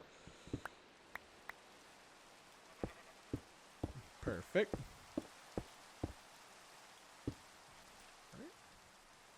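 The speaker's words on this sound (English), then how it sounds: "I can hear the rain, so we're close" Rain falling in the Minecraft video game, heard as scattered, sharp droplet taps and brief rustles at a low, steady level, with a short spoken word from a player partway through.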